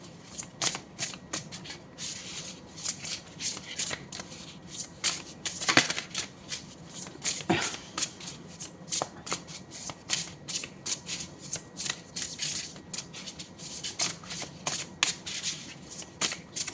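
An oracle card deck shuffled by hand, with steady rapid riffling and crisp snaps of cards repeating throughout, close and clear with no talking.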